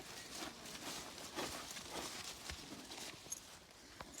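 Hooves of a draft-breed mare clip-clop at a steady walking pace on a hard surface, fairly quiet with faint outdoor background.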